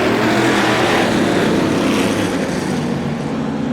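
A pack of vintage modified race cars roars off at a green-flag start at Star Speedway, a loud, dense, sustained engine din that swells evenly and holds with no voices over it.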